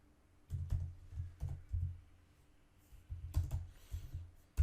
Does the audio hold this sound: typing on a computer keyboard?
yes